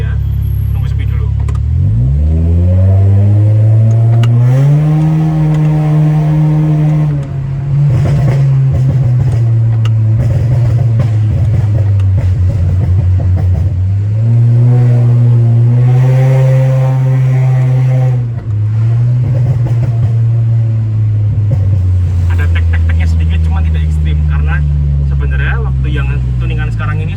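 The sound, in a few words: Honda Brio exhaust revving, heard from inside car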